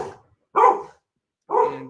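A dog barks close by in a room: three short, loud barks separated by pauses of about half a second to a second, alone with no talk.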